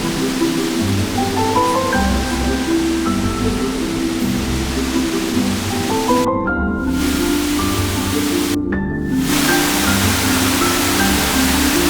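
A waterfall in the Scottish Highlands roars with a steady, dense rush of falling water, loud and continuous throughout, with faint tonal sounds underneath.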